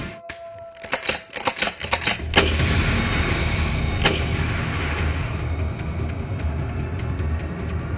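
Rifle fire at a wolf search operation: a cluster of rapid mechanical clicks and sharp bangs opens the clip, then a loud shot leads into sustained rumbling noise, with another crack shortly after.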